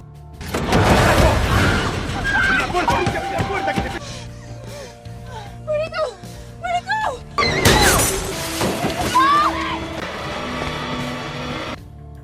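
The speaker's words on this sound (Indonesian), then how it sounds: "Di sini Cuco mencoba menghancurkan kaca mobil" Car window glass smashed during a film scene, loud crashing bursts with shattering debris, gasps and voices between the impacts.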